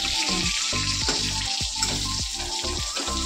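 Pointed gourd pieces fry in hot oil with a loud, steady sizzle close by, dotted with repeated spitting bursts and pops.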